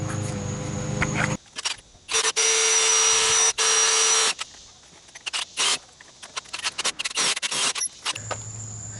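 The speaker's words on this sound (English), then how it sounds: "we got to drill a hole through here, put the other bolt in for this bracket" Loud bursts of a power drill grinding through a metal bracket on a Jeep TJ, starting and stopping several times, followed by scattered clicks and rattles of handling.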